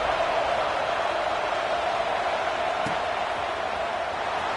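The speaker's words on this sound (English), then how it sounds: "this crowd is buzzing after that last score" A football stadium crowd buzzes after a score on a five-play scoring drive, a steady dense roar of many voices that holds at an even, fairly loud level throughout, with a brief sharp knock partway through.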